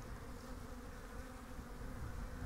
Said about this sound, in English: These bees are definitely at the brood to clean it away.